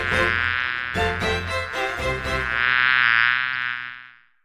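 Synthetic buzzing of bees opening a marketing podcast, a loud, steady, harmonic drone that swells and wavers, with short pulsed stutters early on before it fades out near the end.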